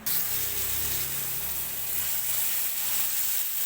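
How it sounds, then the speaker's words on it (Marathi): Masala frying and roasting in a pan for a village-style chicken curry, giving a steady close sizzle with low scraping rumble underneath, continuous throughout and with no talk. "मसाला अजून आता थोडा आणि भाजून घेते"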